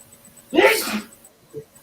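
A single sharp sneeze from a man, loud and close, followed by a brief soft vocal sound, in a quiet room.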